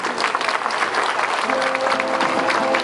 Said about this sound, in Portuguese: Vamos dar a eles, aqui uma salva de palmas.